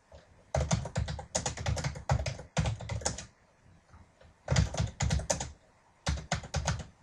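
Typing on a computer keyboard, bursts of rapid close clicking keystrokes separated by short pauses, crisp and alone.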